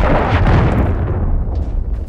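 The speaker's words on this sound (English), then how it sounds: "Here come the Predator missiles." Predator missile strikes in Call of Duty: Modern Warfare 3 erupt as one big, close, rumbling explosion that fades out over about two seconds, with no talk over it.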